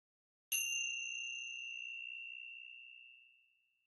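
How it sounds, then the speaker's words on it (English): A single meditation bell is struck once, a clean bright ring with a sharp onset that hangs in a long pure sustained tone, slowly fading over about three seconds in an otherwise quiet room. "So I'm going to ring the bell"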